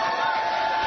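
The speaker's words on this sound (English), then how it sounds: "Are you guys really booing?" A small studio audience at a talk radio show lets out a brief, thin murmur of booing, a sustained crowd drone that sounds like only a few people.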